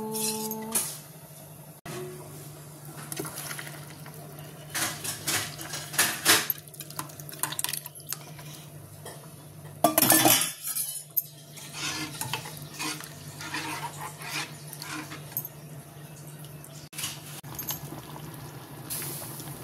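Horse gram flour stirred into a pot for Goan kulith pithi, heard as metallic clinks and scrapes of a utensil against the pot, with a loud burst of clatter partway through over a low steady hum.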